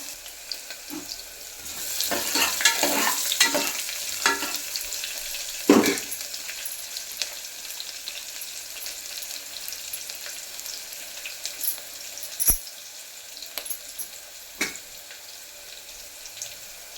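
Finely chopped onions sizzle and fry in a pan while sambar is being cooked, a steady hiss with stirring and clattering noises, a few sharp knocks, and the sound of water running from a tap.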